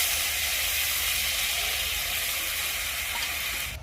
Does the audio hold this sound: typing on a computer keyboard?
no